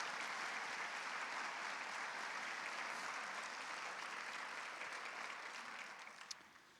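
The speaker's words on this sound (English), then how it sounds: "a big round of applause to everyone who contributed." Sustained applause from an audience at a high school senior awards night, dense steady clapping filling the room before slowly tapering off near the end.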